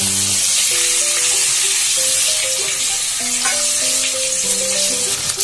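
Onion sizzling in butter with cumin in a kadhai, a loud continuous close frying hiss under tonal background music, with no voices.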